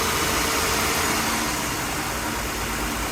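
A car engine runs steadily, close and loud, during ignition sensor testing with crankshaft and camshaft position sensors, a dense mechanical hum with slight shifts as revs vary, no voices.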